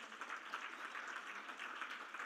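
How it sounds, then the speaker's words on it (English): An audience at an auto industry summit's inaugural session applauds to welcome the chief guest, a government minister, with a steady, even wash of clapping from many hands throughout. "Can we please extend a warm welcome to him with a round of applause?"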